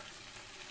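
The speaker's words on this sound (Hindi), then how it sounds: "अब हम इसमें चिकन के पीसेस को डाल देते हैं।" Chicken pieces, half a kilo, sizzle steadily in a pan of browned onions, a continuous close frying hiss with no voices.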